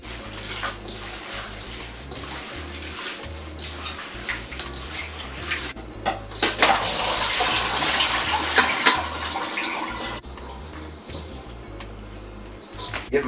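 Cool tap water runs steadily into a bowl with vinegar for washing lettuce, a continuous rushing splash that grows fuller and louder midway, with faint low hum beneath.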